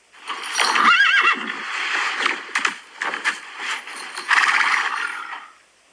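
A horse gives a loud, long whinny that rises and shakes, followed by snorts and fading neighs, close and clear with no talking.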